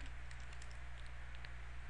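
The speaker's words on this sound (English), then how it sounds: "You can do this by typing the command" Computer keyboard being typed on to enter a command: quick, light key taps spread irregularly over a steady low electrical hum, faint and close.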